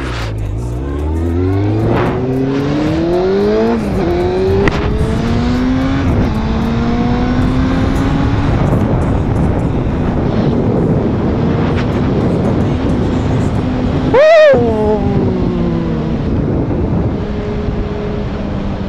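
A Honda CBR 600F2 motorcycle engine on a test ride accelerates loud and close, its pitch climbing through repeated gear changes, then revving hard with a brief sharp blip near the end.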